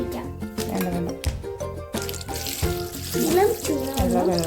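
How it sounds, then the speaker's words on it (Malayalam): Lukewarm water poured from a vessel onto grapes in a bowl, a continuous splashing, gurgling pour up close, with faint background voices. "ഇനി ഇതിലേക്ക് കുറച്ച് ചൂടുവെള്ളം നമ്മൾ ഒഴിച്ചു കൊടുക്കണം"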